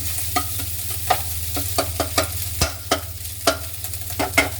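Rice stir-fried with sausage and garlic in a hot pan, a constant loud sizzle broken by sharp, regular scrapes and taps of a utensil breaking the rice down, no talking.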